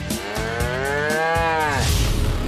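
A cow moos loudly and close in a single long, drawn-out call lasting about two seconds, with no talking around it.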